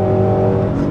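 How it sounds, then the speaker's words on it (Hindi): A supercharged car engine revs loud and close, a sustained harmonic roar with supercharger whine that stays steady through a single brief burst. "Whoa, that supercharged noise."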